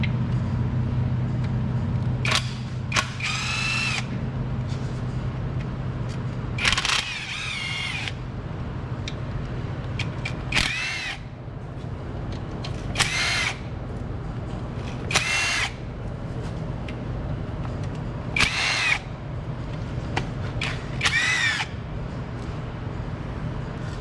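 A power tool spins out 10 millimeter bolts along the lower oil pan of a 2008 Ford Explorer, giving a series of about eight short, loud whirring bursts spaced a few seconds apart, close up, over a steady background hum.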